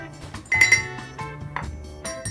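A spoon clinking against a glass while espresso and maple syrup are stirred for a homemade pumpkin spice latte, with several bright ringing taps and scrapes close by and no talk.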